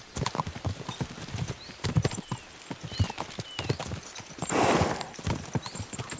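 Horses' hooves clip-clop at a steady, quick pace in the medieval video game Kingdom Come Deliverance 2, with a brief whinny and a swell of movement noise midway. The hoofbeats sound close, and a few faint voices and ambient game sounds sit underneath.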